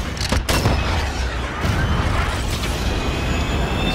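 A cruise missile strike in Call of Duty Modern Warfare Search and Destroy lands with a heavy boom near the start, followed by rumbling debris and crackling blasts that carry on loudly.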